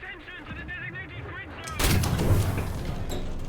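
Tank cannon fire in the War Thunder video game, a sudden loud blast followed by a lingering rumbling roar, with a voice speaking over it.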